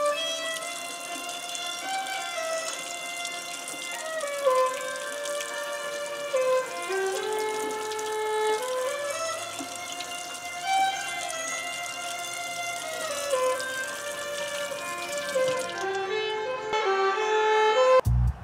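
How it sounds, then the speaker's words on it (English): Water runs steadily from a tap while a painted tile is gently scrubbed with a Scotch-Brite pad, a continuous close gush under no talk, ending with a brief clatter. "I'm just using a Scotch-Brite pad and rubbing very gently over the paint to get that cleared."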